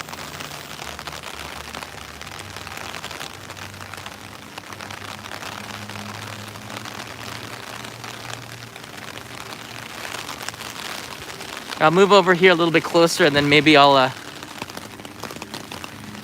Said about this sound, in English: put my umbrella away so you don't hear the pitter-patter of the rain on top of the umbrella